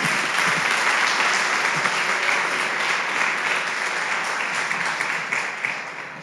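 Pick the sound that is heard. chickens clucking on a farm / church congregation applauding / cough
church congregation applauding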